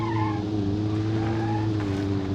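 A car driven flat out in the video game Automation gives a steady, loud engine drone with sustained tonal harmonics holding for a couple of seconds, with no talk over it.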